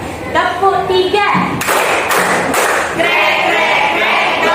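A group of children clap their hands in rhythm during a classroom clapping game, sharp claps landing in short bursts while a teacher chants and voices call along throughout.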